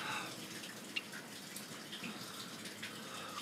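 A shower runs steadily to make hot steam in place of a broken humidifier, giving a faint, continuous hiss of spraying water with a few small splashes, heard alone without talk.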